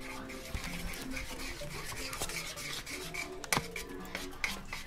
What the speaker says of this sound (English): She's stirring in the 1 cup of peanut butter with the what?